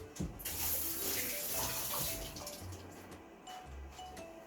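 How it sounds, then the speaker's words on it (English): Running tap water pours steadily over hands being washed at a kitchen sink, a close, continuous splashing rush that fades slightly toward the end, with no voices. "actually I'm going to wash my hands first"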